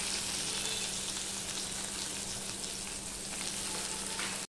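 Chopped garlic and onion frying in oil, a continuous close, even sizzle with a faint steady hum underneath, ending suddenly.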